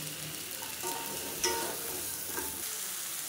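Small onions and tomatoes sautéing in a pan give a soft, steady sizzle and frying crackle, with a few utensil scrapes and taps as they are stirred, and no talking.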